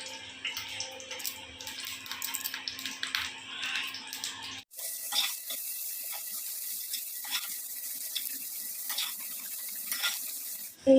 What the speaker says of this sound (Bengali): আর এই যে এদিকে তেল গরম বসিয়ে দিয়েছি ফ্রাইং প্যানে।